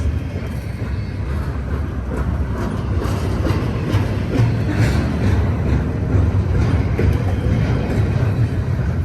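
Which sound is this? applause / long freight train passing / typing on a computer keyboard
long freight train passing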